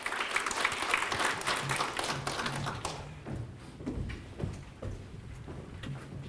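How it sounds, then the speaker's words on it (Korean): Applause of encouragement for student council presidents at a university orientation, dense clapping from a sizeable crowd that thins after a few seconds into scattered claps and a few soft thuds. "우리 회장님들 다시 한번 격려의 박수 주시고"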